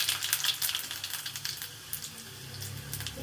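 Panch phoron spices and dried red chillies fry in hot oil for aloo potoler posto, giving a steady close sizzle with crackling pops and faint clatter, no voices.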